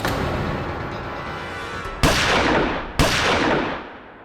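Two sharp pistol shots ring out about a second apart, each followed by a long echoing tail over a loud, noisy rumble.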